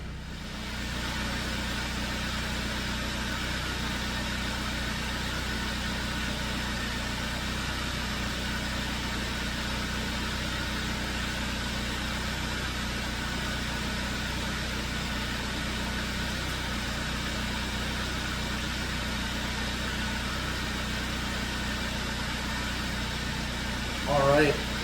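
A 1994–1998 Saab 900 car engine idles steadily while warming up, a continuous even low rumble and hum running unchanged for the whole stretch, with a brief knock right at the end.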